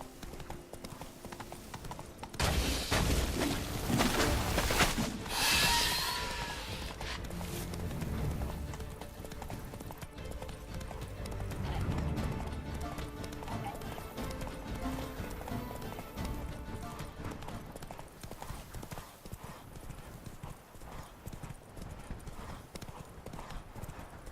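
Roach the horse in The Witcher 3 trotting, rhythmic clip-clop of hooves that swells loud early then settles into a steady, quieter gait, with a brief whinny-like burst near the start.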